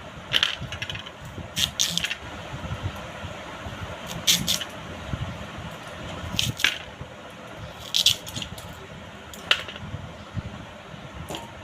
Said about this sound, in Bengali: এবার আমি গাজরটাও একই রকম ভাবে কেটে নেব ডুমো করে।